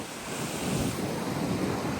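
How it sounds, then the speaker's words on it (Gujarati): Sea waves surge and wash continuously along the coast near Jafrabad, Gujarat, in rough, stormy conditions, with broad roaring surf and strong wind buffeting the microphone, no voices. "આમ જોવો તો મિયા ફેમિલી કેટલા મોજા છે યાર"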